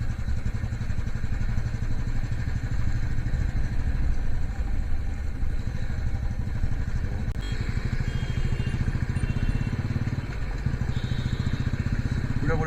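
A motorcycle ridden at night along empty roads and an expressway near Kolkata, heading toward Dakshineswar, gives a steady, close engine drone with constant road rumble throughout.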